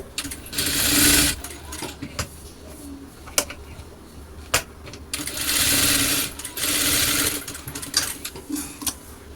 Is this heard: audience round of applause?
no